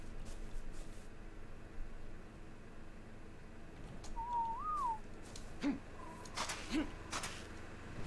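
A single warbling bird whistle in the video game ARK rises and falls against a hissy background, followed by a few short chirps and faint rustles.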